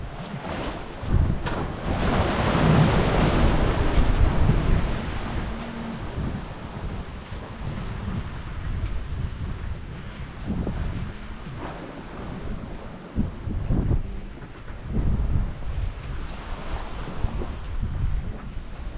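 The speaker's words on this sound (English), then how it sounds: "we're now getting 3-meter waves" Heavy wind and large sea waves of about three metres roar around a sailing boat off Norway, a constant loud rushing with repeated surging crashes and buffeting wind noise on the microphone.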